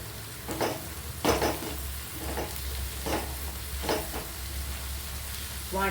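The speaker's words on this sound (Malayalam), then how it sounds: "സവാള മൂക്കുന്നതനുസരിച്ച് ടേസ്റ്റിനും മാറ്റമുണ്ട് കേട്ടോ." Sliced onions fry and sizzle in a pan for chicken curry, with a steady hiss and a few rhythmic bursts of stirring scrapes.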